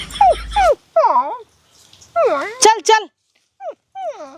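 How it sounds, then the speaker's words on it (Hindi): A puppy outdoors in a village yelps and whimpers close by, letting out several short, high rising-and-falling cries in bursts with pauses between them. A person speaks briefly at the start. "कुकुर कहाँ बोला था?"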